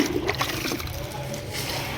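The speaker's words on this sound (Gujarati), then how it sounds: "આ રીતથી આપણે પાણી નાખશું" Water is poured from a container onto cement mortar on a building site, giving a short splashing trickle that is close and moderately loud.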